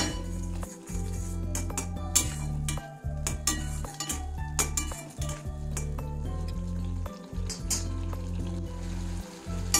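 Gram flour stirred into masala in a pan for palak paneer: repeated metallic scrapes and clinks of a spoon against the pan over a faint sizzle, close, with a steady low hum underneath throughout.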